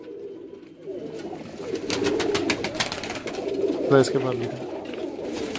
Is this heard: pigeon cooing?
yes